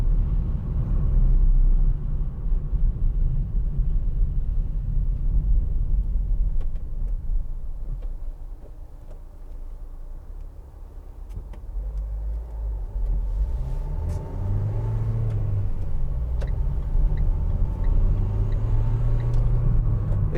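A 2015 Vauxhall Vivaro 1.6 CDTi ecoFLEX van, unladen, accelerates from inside the cabin, a low diesel rumble that swells and dips with a rising engine note near the end, with no voices.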